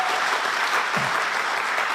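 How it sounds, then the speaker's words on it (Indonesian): Congregational applause fills a church worship service, a steady, dense clapping from many hands that stays loud and even from start to finish. "Beri tepuk tangan buat Tuhan Yesus"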